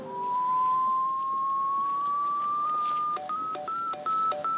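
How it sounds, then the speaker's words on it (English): A locator for a sewer pipe inspection camera in a house basement emits a steady rising electronic tone that breaks into a quick series of short beeps at the end, close and loud. "You hear the beeping, that tells you you're really close."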